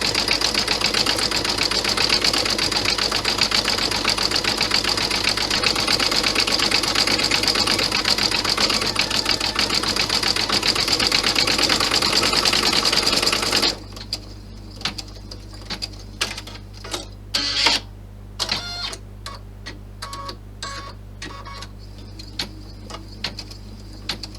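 An embroidery sewing machine stitching an Easter bunny sucker design runs loud and close in a steady rapid whir for about fourteen seconds, then stops, leaving scattered clicks and small handling knocks.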